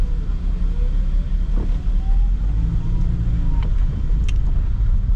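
A Toyota Sprinter AE110 drives along a narrow, crowded road, its engine a steady low rumble heard from inside the car with heavy wind buffeting, faint distant horns, and no talking.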